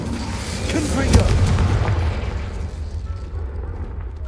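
A deep, rumbling magical blast from the Confringo explosion spell in Hogwarts Legacy swells and then fades out over a few seconds.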